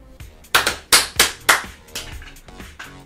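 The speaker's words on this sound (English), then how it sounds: "That was the weakest clap." A handful of hand claps after a tabletop X-Wing Miniatures game, several sharp slaps of uneven loudness and rhythm, close by, with a few softer claps trailing off toward the end.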